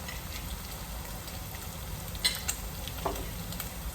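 Meat frying in a pan toward a semi-dry fry with a little sauce, to be eaten with ugali: a steady close sizzle with a few light scraping stirs and taps.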